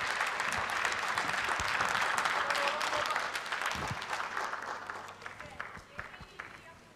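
Studio audience applauding on a Turkish television show, a dense wash of clapping that is loud at first and gradually thins out and fades.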